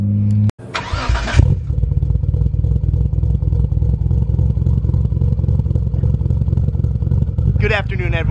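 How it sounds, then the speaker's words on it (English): A modified Nissan GTR with aggressive aftermarket cams cold-starts with a sharp crank and catch, settling into a loud, steady, lumpy idle that runs close and unbroken to the end. "I figured I'd give you a little cold start of the GTR because the cams do sound super aggressive now"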